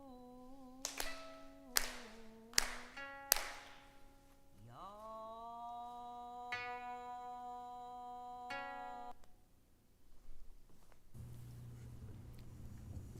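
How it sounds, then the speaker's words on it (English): Four sharp, evenly spaced hand claps ring out together at a Konko memorial service, followed by sustained sung or chanted tones and a soft rumble. "Let us clap our hands 4 times together."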